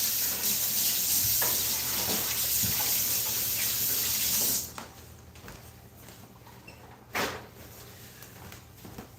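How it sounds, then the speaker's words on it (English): Hands are washed under a running kitchen tap, a steady close rush of water for about four and a half seconds before it shuts off, followed by a few faint clatters. "let me wash my hand."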